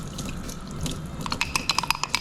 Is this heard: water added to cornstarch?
yes